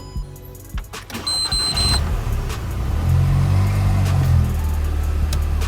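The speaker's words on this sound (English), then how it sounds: "and start up the car." A Volkswagen Golf Mk5 GTI being started, the engine cranking and catching into a steady, loud idle rumble close by after a brief electrical whine, with no talking.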